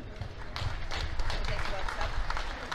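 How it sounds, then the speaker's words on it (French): Spectators at an amateur football match applaud the visiting school side, a steady patter of clapping with scattered claps standing out. An announcer talks over it. "on va applaudir la solidarité scolaire."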